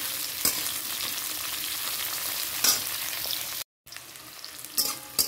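Thick-cut bitter gourd slices fry in a pan with a steady, close hiss and crackle, broken by a few stirring scrapes and one brief gap of silence.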